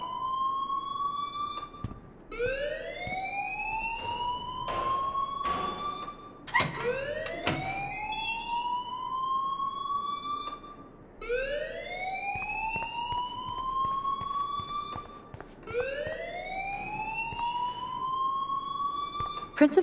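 A fire alarm wails in the Life Is Strange video game, a loud rising electronic whoop that repeats roughly every few seconds, sweeping upward again and again without pause.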